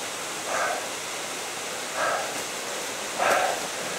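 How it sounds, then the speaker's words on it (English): The Yellow Bamboo Falls waterfall on a hike in Japan rushes as a steady, broad hiss, with three brief, slightly louder swells breaking through the constant roar. "A waterfall, check it out."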